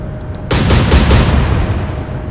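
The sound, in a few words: naval gunfire from warships in Atlantic Fleet video game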